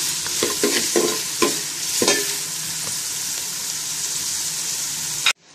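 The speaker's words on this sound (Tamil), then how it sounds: "இப்போ வந்து பார்த்தீங்கன்னா நம்மளுக்கு வந்து வெங்காயம் நல்லா வதங்கிடுச்சு." Onions with salt sauté in a pan for fish curry: a close spatula stirs and scrapes in several distinct strokes over a constant sizzle, then everything cuts off abruptly near the end.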